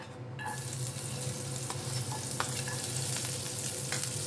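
Chopped garlic cloves sizzle steadily in hot ghee for a dal tadka, a close, continuous frying crackle with a few faint clinks of a utensil and no voices.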